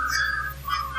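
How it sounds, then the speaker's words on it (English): A thin, high whistled tone caught on an audio recording in a living room holds steady, then slides and wavers briefly, faint against a low constant hum. "we heard a whistling on there"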